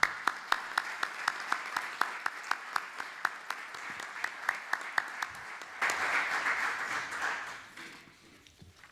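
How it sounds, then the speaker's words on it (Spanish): An audience at a tribute ceremony claps steadily, with sharp individual claps standing out, then the applause swells into a denser burst before fading away. "yo les ruego que reciban con un fuerte aplauso"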